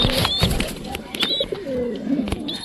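Pigeons nesting with their chicks coo nearby, with low, wavering coos mixed with brief higher chirps and some rustling, all close and fairly loud over a short stretch.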